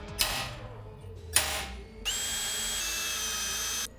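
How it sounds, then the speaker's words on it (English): A power drill bites through a metal mounting plate for a go-kart motor mount, first two short bursts, then a sustained whining run of almost two seconds, loud and close with no talking. "I'll drill 2 holes through that for the mounting holes"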